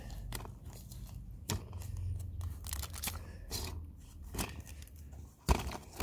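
A Holosun red dot sight, the ACSS Vulcan 509, being unboxed one-handed, with crisp crackling, scraping and snapping of packaging in irregular close bursts and no talk.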